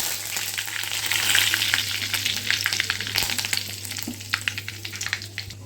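Mustard seeds and curry leaves sizzle and crackle in hot oil in a pan. A steady frying hiss carries many sharp pops close by, and no one speaks.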